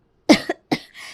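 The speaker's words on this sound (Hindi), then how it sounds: "अरे बहू कितना खांस रही हो तुम।" A woman gives a few sharp, close coughs in quick succession, two bursts followed by a softer raspy trailing breath, in an otherwise quiet room.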